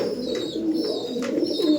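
Rajasthan tong pigeons, a Giribaj flying breed kept in a loft, coo in a steady low, throaty murmur. The cooing keeps going through the short stretch and sits close and moderately loud.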